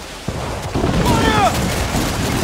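Cannons on a ship fire in Assassin's Creed IV Black Flag, a sharp report followed by a heavier booming volley over rumbling sea-battle noise, with a whistling streak trailing after.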